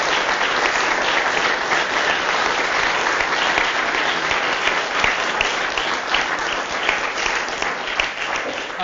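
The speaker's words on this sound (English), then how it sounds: "we really should give all the lecturers a big round of applause" A teachers' conference audience gives the lecturers a big round of applause, a full, sustained wash of many hands clapping at steady loudness from start to finish.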